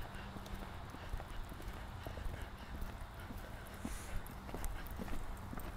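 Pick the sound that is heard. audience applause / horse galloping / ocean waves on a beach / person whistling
horse galloping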